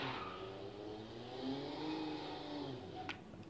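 Car engine in a driving video game with manual clutch, a steady mid-pitched drone that rises slowly in pitch as it accelerates, heard alone without talk.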